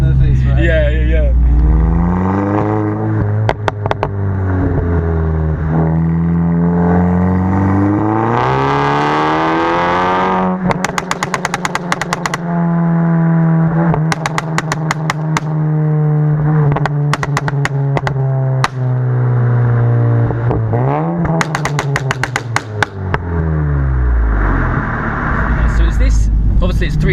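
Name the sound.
350bhp Volkswagen Golf GTI engine revving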